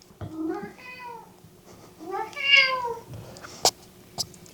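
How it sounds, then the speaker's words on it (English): A Bengal cat gives two drawn-out, rising-and-falling meows nearby, followed by a few sharp clicks and taps in a quiet room. "I hope you guys can hear the cat in the background."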